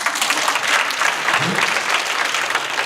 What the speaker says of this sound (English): I thought to clap hands for that.